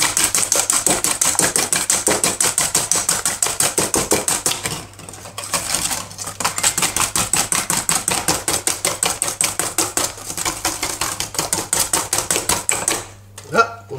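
A whisk beats sugar into clafoutis batter in a bowl, a fast, steady run of crisp tapping strokes that pauses briefly partway through and then resumes, close and alone without speech.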